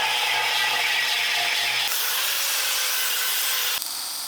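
Steady, loud grinding of glass parts for a DIY 3D printer runs with no break for several seconds, a harsh abrasive rasp with a faint lower hum beneath and a brief drop near the end.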